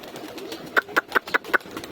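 Pigeons at their loft give a run of five soft, evenly spaced coos after a quiet start, close by and alone with no talking.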